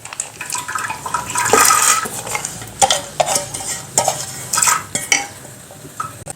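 Washed lentils (dal) tipped into warm water with a spoonful of oil in a pot, giving a close, stirring splash and clink of utensils against the vessel, with a few sharp knocks, and no talking.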